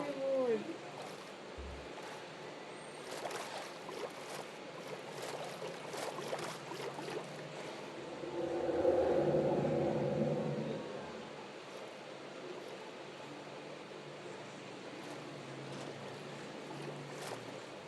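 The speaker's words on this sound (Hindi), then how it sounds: "कैसी चल रही है गाइस ये बोट" A boat glides over water in Minecraft, a faint soft wash that swells briefly midway, with a quiet voice talking at times.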